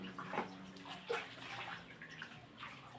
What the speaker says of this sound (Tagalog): Ang lakas po ng bukal